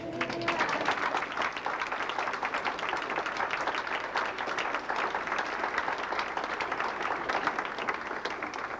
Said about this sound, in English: I think we should give ourselves a great big round of applause, huh?